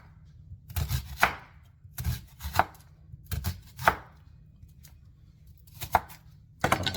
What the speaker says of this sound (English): let me slice some of this onion up